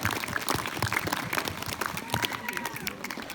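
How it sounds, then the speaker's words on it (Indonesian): An audience at a teachers' sharing forum claps in a loose, uneven burst of applause with distinct individual hand claps close by and voices chattering underneath. "Tepuk tangan dulu."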